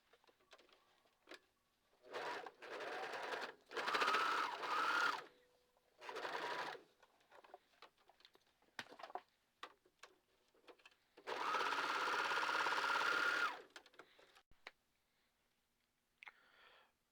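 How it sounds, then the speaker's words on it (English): A sewing machine stitches the corners of a fabric reusable wine bag in four separate runs of steady mechanical whirring, two short and one longer near the end, with quiet handling pauses and no talk. "it's time to sew these two corners that you have just sewn"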